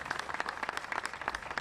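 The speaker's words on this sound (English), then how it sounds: "Let's give Judge K.P. George a big round of applause for his visionary leadership" Applause from a crowd at a Fort Bend County Juneteenth celebration, a steady patter of many hands clapping at moderate loudness for a short stretch.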